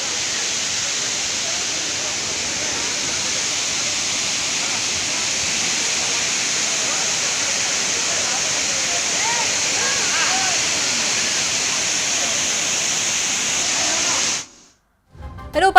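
Jhari Falls, a waterfall in the Western Ghats below Mullayanagiri in Chikkamagaluru, pours with a steady, dense rushing roar that holds even and close for the whole stretch before cutting off abruptly at the end.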